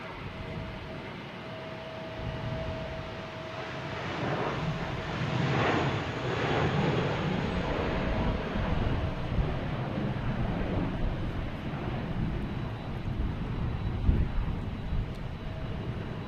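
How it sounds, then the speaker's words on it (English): A JetBlue airliner flies over Boston Logan Airport, its engine roar building to a loud, broad rumble and then lingering against wind noise at a distance. "We got a JetBlue heading to Fort Myers."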